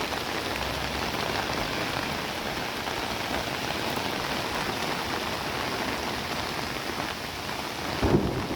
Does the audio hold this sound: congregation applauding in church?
no